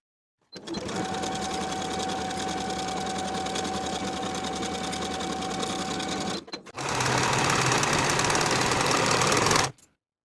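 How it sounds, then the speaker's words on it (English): An electric sewing machine runs in two steady bursts, stitching a seam on a jumper, with a rapid mechanical whir close to the microphone and a brief pause between runs. "Sew this seam with a 1/2 inch seam allowance and finish the raw edges together"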